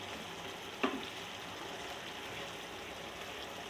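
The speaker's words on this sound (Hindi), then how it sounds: "तो देखिए मसाला भून रहा है, काफ़ी हद तक भून चुका है।" Masala of chilies, coriander, salt and spices frying in a pan for chicken seekh kabab handi, a faint steady sizzle with one brief scrape of stirring, heard alone and quiet.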